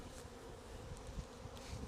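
Honey bees buzzing in an opened hive during a hive merge, a dense continuous low drone of many bees at close range, with no talk.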